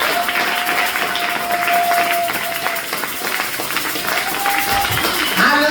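A congregation at a Friday prayer service claps and cheers for Jesus Christ, steady crowd applause with scattered shouts running throughout, heard under a preacher's voice.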